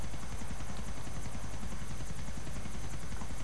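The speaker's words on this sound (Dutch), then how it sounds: "Dan wordt de helikopter zwaar overbeladen." Helicopter in the video game GTA IV, heavily overloaded with passengers, its steady rotor thump and turbine whine holding loud and constant throughout with no talking.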